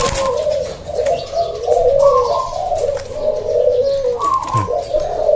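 Soft, rolling dove coos repeat in a steady rhythm, close and clear, with a few faint chirps mixed in.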